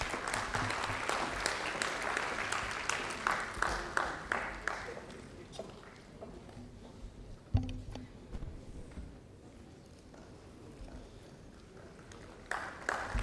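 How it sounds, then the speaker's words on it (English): Workshop audience applauding panelists at a semiconductor event, a faint burst of clapping that fades and then returns in softer, scattered rounds, with a sharp thump in the middle. "A big round of applause to the panelists"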